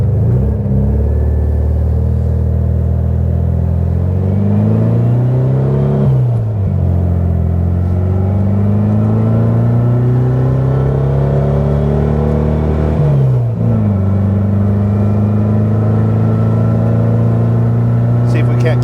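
A 1967 Volkswagen Beetle engine drones steadily from close by while driving, its pitch climbing and then dropping back at each gear change, with no break in the running sound.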